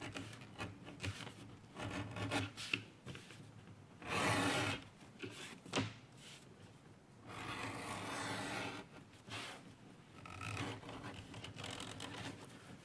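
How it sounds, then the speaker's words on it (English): A beveling tool is drawn along the square edge of a custom leather shoulder holster, making dry rasping scrapes in several separate long strokes with quieter scuffing between them, close up and without talk. "And then we give it a bevel fore and aft to get rid of that square edge."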